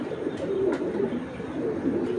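A male Patti pigeon coos close by in soft, repeated low warbling phrases, continuous through the moment with no talk.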